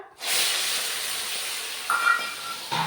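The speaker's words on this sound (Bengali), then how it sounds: "পেঁয়াজ বাটাটা ভালো করে ভেজে নেব" Onion paste frying in hot oil with bay leaves, dried chillies and cardamom for a yogurt catla fish curry, a loud, steady close-up sizzling hiss that flares briefly near the end, with no voices.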